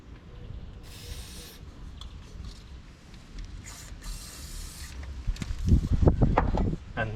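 Short hissing bursts from an aerosol spray can onto the rear brake caliper bolts of a 2010 Kia Sorento, two or three close by, followed by clanking and ratcheting of tools.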